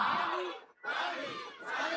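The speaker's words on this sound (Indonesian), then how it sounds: "Ketika saya menyebutkan Surabaya, jawabannya wani, wani, wani 3 kali." A crowd at an Indonesian community event in Surabaya shouts the answer "wani" in unison, two loud collective bursts separated by a brief silence.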